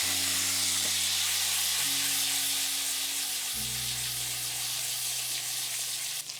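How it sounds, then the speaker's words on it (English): Gnocchi sizzle steadily after being dropped into browning butter in a hot pan. The frying is loud and continuous, with a faint low hum beneath it and no voices. "we want to add our gnocchi into the butter"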